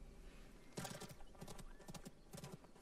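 Horse hooves gallop in the video game Realm Royale, a steady rapid clip-clop rhythm played loud and close over a busy in-game background.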